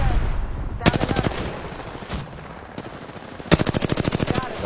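Rapid automatic gunfire in the Apex Legends battle royale game, two loud sustained bursts with rhythmic repeating shots separated by a quieter stretch holding a couple of single shots, no talk.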